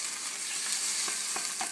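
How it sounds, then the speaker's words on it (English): Food is scrambled and stir-fried in a pan for a wild mushroom ramen stir fry, a steady close sizzle with a few quick scraping strokes toward the end, no talk. "We'll just kind of scramble this up until it dries out a bit."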